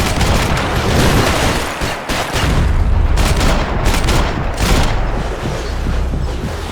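Dense gunfire in the Max Payne 3 video game, with loud, rapid automatic bursts and booming shots that run nearly continuously in a chaotic firefight.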